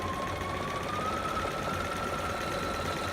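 A sewing machine runs at steady speed, back stitching and then sewing along the raw edge of fabric for a romper, giving a loud, continuous mechanical whir with a faint high whine.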